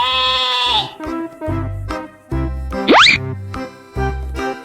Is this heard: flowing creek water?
no